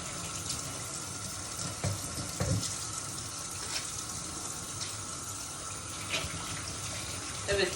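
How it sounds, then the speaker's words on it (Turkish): Running tap water flows steadily in a kitchen as hands are washed underneath, a soft continuous splash with a few brief louder bursts and no talking over it. "şimdi ellerimi yıkayıp hemen geliyorum"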